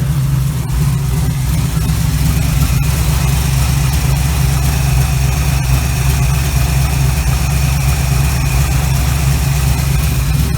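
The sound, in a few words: 1936 Chevy Coupe engine idling with Holley carburetor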